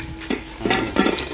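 A metal cooking pot with a tempered-glass lid and its parts being handled up close, producing a run of sharp clanks and clinks over about a second and a half.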